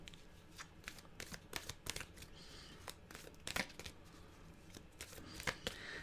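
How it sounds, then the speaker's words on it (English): A deck of cards being shuffled close up, quiet and alone, with a rapid run of crisp riffling bursts and softer papery shuffling between them. "Make sure I put the deck right. Okay, give it another shuffle."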